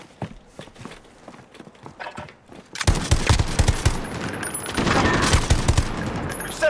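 Gunfire in the multiplayer video game Call of Duty Modern Warfare: sparse footsteps and scattered shots at first, then a dense burst of rapid automatic fire and impacts, loud and close, with a voice talking briefly.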